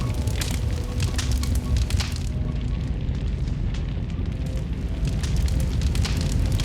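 A tree set alight by a lightning strike during a storm burns with a dense, steady roar and crackle, loud and close throughout, with no voices.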